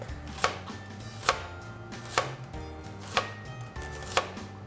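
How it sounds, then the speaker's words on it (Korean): A knife thinly slicing onion on a cutting board, five evenly spaced crisp chops close by at a slow steady pace. "먼저 양파를 썰어 볼게요. 얇게 채를 썰 거거든요."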